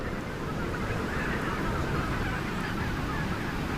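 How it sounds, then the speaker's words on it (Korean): A large wintering flock of greater white-fronted geese in wide rice fields at Ogata makes a dense, continuous wash of overlapping honks and calls, steady and fairly distant. "이 새들은 대부분 쇠기러기들입니다."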